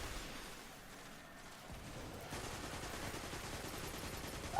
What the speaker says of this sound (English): Shooting the crystal.